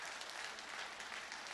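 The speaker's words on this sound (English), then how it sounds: "can you give this woman a round of applause?" A crowd applauds steadily, a dense wash of clapping heard from a short distance, brief and fairly soft.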